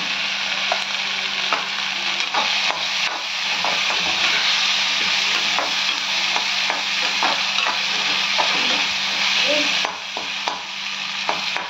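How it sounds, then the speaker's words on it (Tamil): Tomato and garam masala fry in a pan for mint chicken, with a loud, continuous sizzle and repeated clinks and scrapes of stirring close by. "இப்போ தக்காளி போட்டுக்கோங்க"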